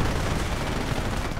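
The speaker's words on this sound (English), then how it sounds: "Panther moving in, opening fire on the rear armor of the Kangaroo." Tank gunfire in a WWII strategy video game, a Panther firing on the rear armor of a Kangaroo carrier: dense, continuous rumbling battle noise with overlapping shots and blasts, loud and steady throughout.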